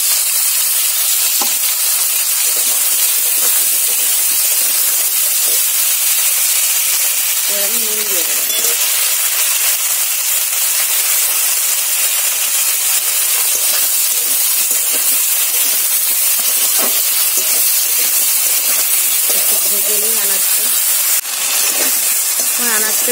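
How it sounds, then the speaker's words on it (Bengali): Potato, eggplant and onion pieces fry in hot oil in a pan, producing a steady, loud sizzle and hiss throughout with occasional stirring scrapes, and no one talks over it. "আনাজটা একটু ভাজা হয়ে গেছে"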